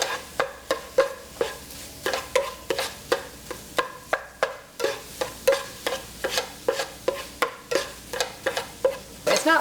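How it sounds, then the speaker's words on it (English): Tofu scramble with turmeric being stirred in a pan, a regular series of about twenty quick scraping strokes against the pan, close and fairly loud, over a faint sizzle, with no voices. "as I stir this around, you'll see that the turmeric will mix together and give it a nice yellow hue"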